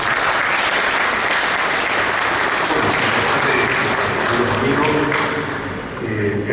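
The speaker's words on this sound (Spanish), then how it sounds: "Recibámoslo por favor con un fuerte aplauso." A large audience at an archaeology and history lecture on the Qhapaq Ñan gives loud, sustained applause to welcome a speaker, dense continuous clapping for over six seconds that eases slightly near the end.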